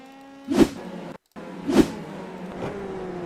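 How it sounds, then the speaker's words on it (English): Formula 3 car in a sim racing game spinning at Monza after riding the curb under power, heard as a few sharp broadband engine surges with a brief cutout, moderately loud and with no talk. "He just got on the power as the car went over the curb. And it spins on him very, very quickly."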